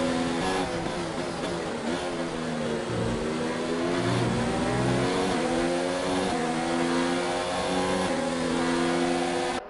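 A Mercedes Formula 1 car engine in the F1 2019 racing game roars at high revs, holding a loud, steady harmonic whine with gear-change dips while another car closes in under slipstream.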